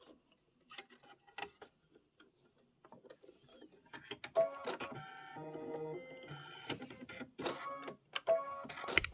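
A computerized embroidery machine tacks down the back lining of a crossbody bag, its needle clattering in quick, rhythmic mechanical bursts that build after a sparse start, fairly close and moderately quiet, with no voices.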